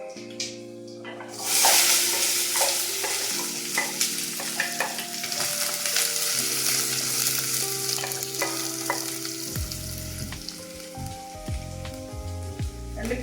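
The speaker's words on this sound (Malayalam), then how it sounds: "5-6 അല്ലി വെളുത്തുള്ളി ഇത് ചേർത്ത് നല്ലോണം വഴണ്ടി വരും" Chopped onion, fenugreek seeds, fennel seeds and garlic sauté in hot oil after mustard seeds pop, making a loud, steady sizzle with a burst as ingredients drop in, plus frequent close clicks of a stirring spoon, no voices.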